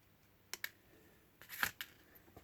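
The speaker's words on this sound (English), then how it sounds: "And we'll just trim that off." Small cutters snip excess wire on a tiny NE555 timer circuit, giving a few faint, sharp clicks spread over a couple of seconds against near silence.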